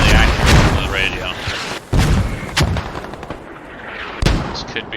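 Mortar shells land in a military shooter game, giving several heavy booming impacts spaced a second or so apart. The blasts are loud and close, and a voice talks over them throughout.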